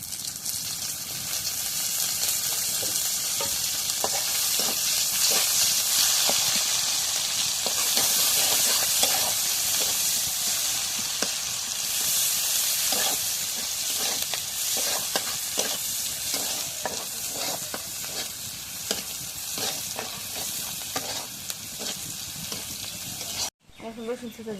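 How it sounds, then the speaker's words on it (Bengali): Oil sizzles steadily in a hot wok, a loud continuous hiss close by with scattered stirring scrapes and taps running throughout, cutting off abruptly at the very end. "এখন কড়াই তেল দিয়ে দিই,"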